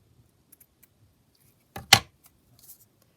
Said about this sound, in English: I'm just going to snip off